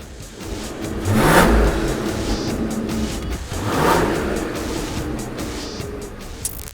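Mercedes-AMG CLE 53 engine revving through its quad exhaust, two loud rising revs a couple of seconds apart, each swelling and settling back to a steady idle, heard up close with no talking.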